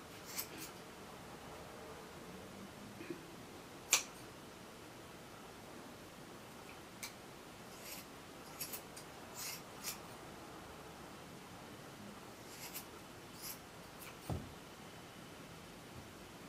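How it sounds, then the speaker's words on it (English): Scissors snip through yarn loops in half, giving faint, sparse cuts and soft rustling over quiet hiss, with one sharper snip standing out. "I'm going to go carefully in and cut these loops in half."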